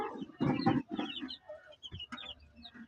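A brooding hen sitting on eggs gives a string of short, close clucks. The calls come in uneven bursts with brief pauses between them.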